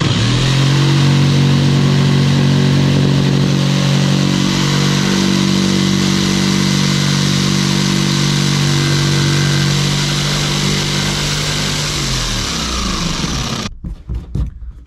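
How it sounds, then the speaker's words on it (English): An old jigsaw fitted with a brand-new metal blade cuts steadily during a Toyota Hilux LN106 build, giving a loud, even motor buzz that runs for about thirteen seconds and then abruptly stops. "my weapon of choice for this little hack is the trusty old jigsaw. But what I've done, I've put a brand new metal blade in it"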